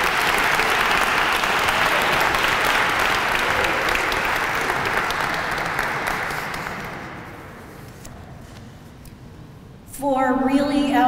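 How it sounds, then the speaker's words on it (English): Audience applause at an Italian American Heritage Month opening ceremony, a loud dense round of clapping that fades over several seconds before a voice begins speaking at the end. "how about we have another round of applause for all of our honorees"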